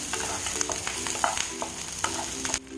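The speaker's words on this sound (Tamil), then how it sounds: "வெங்காயம் வந்து நல்லா பொன்னிறமாக ஆற வரைக்கும் வணக்கி போட்டணும்" Onions sautéing in a pan with dried red chillies, a continuous close sizzle overlaid with quick spatula scrapes and taps against the pan in an uneven rhythm.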